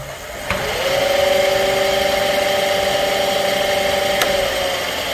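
The hub motor of a HappyRun G300 Pro 3000W 72V electric bike spins freely at assist setting 5, giving off a steady, sustained whine close by, with faint ticks at the start and end and no talking.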